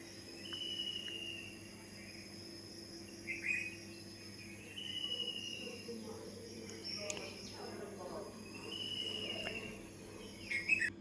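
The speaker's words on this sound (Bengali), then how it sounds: "একটু পাখির ডাক শুনে আসেন" Small birds chirping and calling in an outdoor dawn chorus, faint and distant, with short scattered tweets over a quiet steady background hum of insects or crickets.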